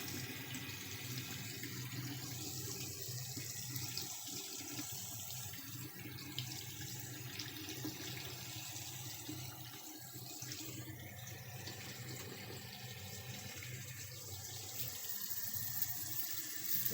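Hot water from a tap runs in a steady, even rush throughout, with a Junkers boiler heating the supply. It sounds close and continuous with no voices.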